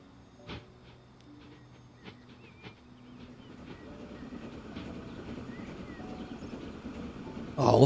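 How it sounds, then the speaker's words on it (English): An iron train in the Transport Fever 2 video game on a UK map near Leeds rumbles closer with a steady rolling clatter, building from a faint hum into a louder, nearer roar, with a few sharp clicks early on. "We've got the iron train just ahead of us."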